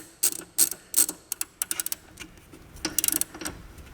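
A hand ratchet clicks in quick irregular bursts, close and crisp, as set screws on a torsion bar collar of a Chamberlain RJO20 wall-mount garage door opener are tightened down.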